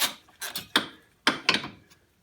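Metal bolts being worked loose on a 1984 Yamaha G1 golf cart during a crank seal repair, a few short scraping, ratcheting clicks and clinks in uneven bursts, close and moderately loud with no talking.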